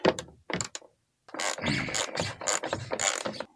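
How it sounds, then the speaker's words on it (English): A 10mm socket on a ratchet works bolts loose on an Astro van, giving bursts of rapid clicking and clattering in short spurts with a brief pause, close and fairly clear. "So I just got myself a 10mm socket and a ratchet. And I'm going to go ahead and remove these two bolts."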